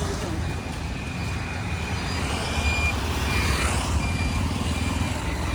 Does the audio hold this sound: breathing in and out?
no